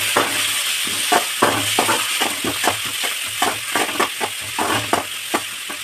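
Onion and tomato sauté in a pan for a chicken gravy masala, a steady hiss of frying punctuated by quick, rhythmic stirring strokes and scrapes close by.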